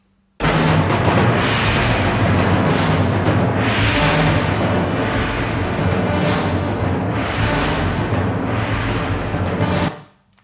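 A loud, dense orchestral passage from near the end of Stravinsky's The Rite of Spring plays for about ten seconds with no talking, full and forceful, with heavy accented swells recurring in a driving, uneven rhythm.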